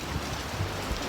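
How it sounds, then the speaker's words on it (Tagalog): Heavy rain pours at a ferry port in Boracay, a loud, continuous wash of drops with no pauses and no voices over it. "Ang lakas ng ulan."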